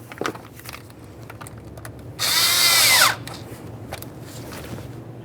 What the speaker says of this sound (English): Tighten up your 8mm headed clamp.